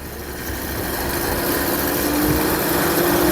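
A car alternator used as a motor on a bicycle whines and hums steadily, a continuous electric drone with a faint rising tone as it speeds up, growing slightly louder over a few seconds.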